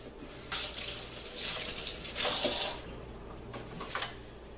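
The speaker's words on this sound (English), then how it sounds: "I'm going to give it a quick rinse" Water runs from a kitchen tap over a peeled boiled egg, a steady close splashing rush that swells and shifts as the egg is turned in the stream, with no voices.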